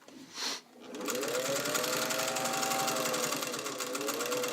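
A restored all-metal Singer 201 sewing machine stitches through several fabric layers at a long stitch length, its motor whirring in a steady, even run after a brief rustle at the start; no one speaks.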